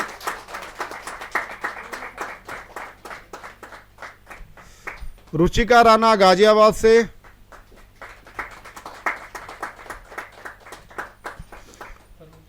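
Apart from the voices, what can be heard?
audience clapping at a poetry gathering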